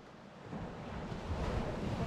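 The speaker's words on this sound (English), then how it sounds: "Oh, look at the waves splashing over there." Ocean surf along the rugged Fundy coastline, a continuous broadband wash of breaking waves that swells louder toward the end, mixed with wind buffeting the microphone, heard from a hiking trail with no voices.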